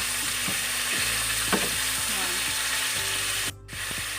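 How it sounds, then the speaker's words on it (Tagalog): Pork, about 400 grams, frying in a pan for Leyte-style pork humba, giving a loud continuous sizzle with repeated scraping and stirring strokes of a utensil, cut briefly near the end, no voices. "iprito muna natin yung ating pork"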